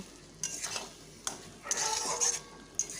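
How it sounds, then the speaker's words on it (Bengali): Gobindobhog rice pulao with sugar is stirred in a pot, with intermittent scraping strokes and light clinks of the spoon against metal, coming in short bursts separated by quiet gaps. "দিয়ে ভালো করে এবার আবার নাড়িয়ে নেব।"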